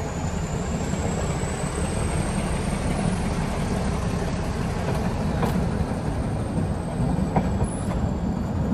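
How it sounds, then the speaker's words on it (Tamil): The Ooty to Coonoor mountain toy train rolls slowly and steadily along the tracks with a constant rumble, faint metallic squeals and occasional clicks from the wheels, close by. "ரொம்ப ஸ்லோவாக போகிற ட்ரெயின்"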